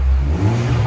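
A close, loud rev from a Chevy Malibu 1.5L turbo running straight pipes, a steady deep engine drone held for a brief moment with no talking.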